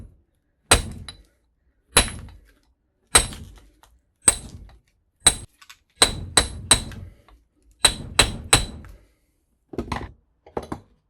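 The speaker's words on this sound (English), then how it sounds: "Take this piece of steel that I found, and I'll just drive these steel things away." Loud, sharp metallic blows ring out as a steel bar is hammered to drive steel pieces out of a workpiece held in a vise, about fifteen strikes, some single and some in quick clusters, each followed by brief ringing decay.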